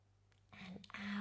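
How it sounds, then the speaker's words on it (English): A deep breath is drawn in through the nose during a children's yoga session, a rising airy inhale that grows louder over about a second, close to the microphone. "breathing in through the nose"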